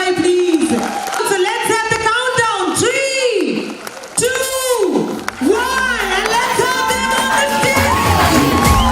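Audience at a Safeshop Diamond celebration event in 2017 cheering, whooping and clapping loudly and continuously, with an announcer's voice and shouts over the crowd.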